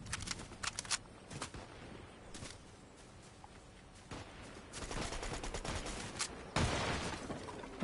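Rapid gunfire bursts in an online shooter game, with sharp repeated shots at the start and again in later stretches over continuous battle noise, moderately loud.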